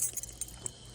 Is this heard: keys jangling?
yes